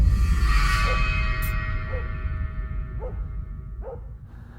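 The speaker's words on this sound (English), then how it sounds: "the dog doesn't listen and continues to bark." A dog barks four times at roughly one-second intervals, fairly distant and muffled, over a loud steady low rumble of wind or outdoor noise in a wilderness setting.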